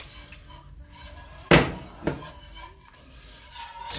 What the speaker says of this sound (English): we need to gently whisk until it gets to that temperature